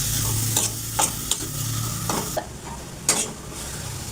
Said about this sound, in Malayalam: നല്ലോണം വതുക്കിയെടുത്ത് വഴറ്റണം.